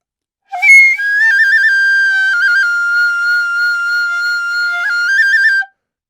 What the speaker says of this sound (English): the opening fue melody will begin